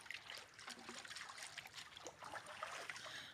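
Water trickling and dribbling in a country river where people rinse off, a steady close splashing babble throughout with no talk.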